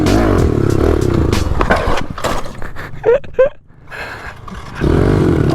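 Small pit bikes revving and roaring inside an abandoned house, engine noise loud and close with rough scraping and clattering bursts, a brief lull mid-way before the engines surge back, voices shouting now and then.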